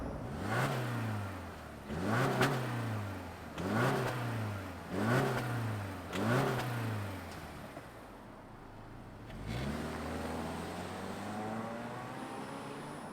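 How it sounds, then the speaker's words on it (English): A 2024 Subaru Impreza RS flat engine fires up and is revved five times in quick succession, each rise and fall distinct and close, then settles into a steady idle. "let's fire this up and hear what the Impreza RS sounds like."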